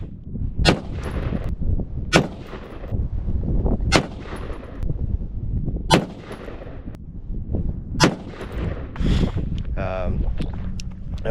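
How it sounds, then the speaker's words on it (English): 5.56 rifle rounds, 77gr, 69gr and 55gr V-Max and FMJ, are fired one at a time, each loaded singly into the chamber: six loud, sharp shots spaced about two seconds apart, each with a short ringing tail over steady background noise. "And we just fired them one at a time."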